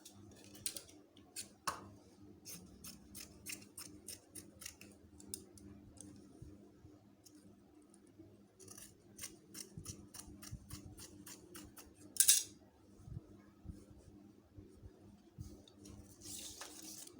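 Scissors snip through fabric pieces being cut for a bridal party kimono robe, a steady run of light, crisp clicks with short pauses and one sharper snip, close and quiet with no talking.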